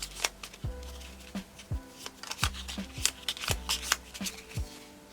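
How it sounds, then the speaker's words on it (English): Playing cards riffle-shuffled several times in quick bursts, each ending in a soft snap, close by with no talking. "So I'll just quickly shuffle these."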